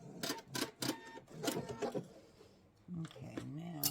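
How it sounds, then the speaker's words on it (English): A sewing machine stitches across fabric for a Bali bowl in a run of rhythmic, close bursts, then falls quiet as a voice begins speaking. "I'm just going to sew across."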